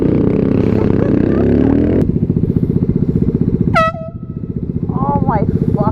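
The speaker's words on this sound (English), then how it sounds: "Let's see what happens when they hear a loud air horn." Loud air horn blasting at close range over the steady putter of an idling motorcycle engine, followed by shorter honks; a person talks near the engine throughout.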